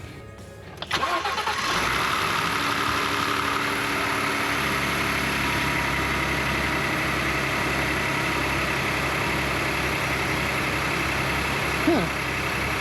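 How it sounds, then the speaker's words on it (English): A car engine cranks and catches during a battery test, then settles into a steady, close idle that runs on evenly with a brief blip near the end. "Start the engine."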